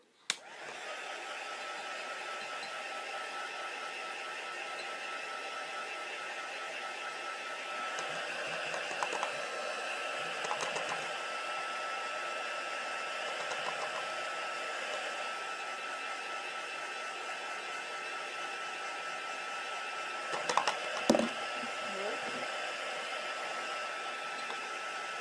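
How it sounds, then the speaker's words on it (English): A hair dryer blows steadily for a long stretch while drying layers of paint or glue on craft puzzle pieces, a constant broadband whoosh with a few brief handling clicks and bumps partway through. "drying it again."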